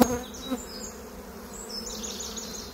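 Honeybees buzz close by after a hive frame from a swarm colony is shaken, a dense, steady drone with a few louder individual bees flying near and passing by.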